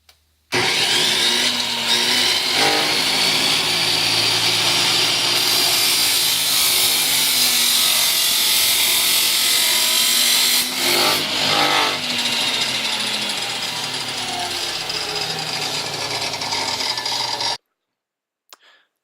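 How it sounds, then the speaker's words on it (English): A 14 inch crosscut saw cutting through a 1 inch wide metal flat, a loud harsh continuous grinding screech held for about seventeen seconds before it stops abruptly. "I cut all the pieces with a 14 inch crosscut saw"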